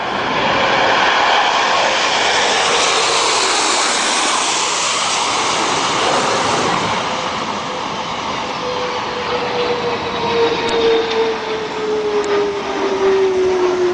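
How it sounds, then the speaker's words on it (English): A loud, broad roar of jet engines fills the air as a landing aircraft passes, a steady rushing whine slowly shifting in pitch, with no talking. "Take a look and take a listen to those jet engines."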